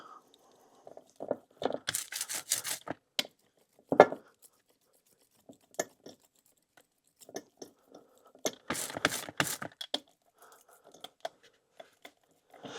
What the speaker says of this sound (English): The way I do it here is with a hard rubber roller. This way you get a really uniform coating on your case halves.